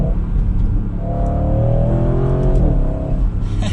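An Audi RS sedan or wagon accelerates hard from second gear, its engine note climbing loud and steady close by, then dipping briefly as it shifts and pulls again.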